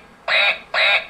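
Two quick, bright electronic quacks from a Bump & Go toy duck, close and loud, one right after the other.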